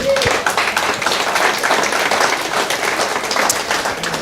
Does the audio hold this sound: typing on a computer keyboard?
no